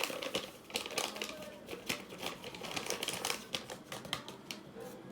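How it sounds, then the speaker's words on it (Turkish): Dr. Oetker whipped cream powder being beaten together with milk, a busy, close rattling whir with rapid clicking strokes against the bowl, continuous and fairly loud, no speech. "krem şantiyi sütüyle beraber çırpıyorum"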